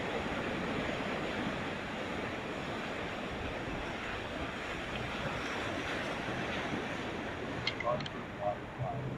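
Surf along the downtown Mazatlan beach by the Malecon boardwalk, a steady broadband wash of breaking waves mixed with wind noise on the microphone, with a few faint sharp sounds near the end.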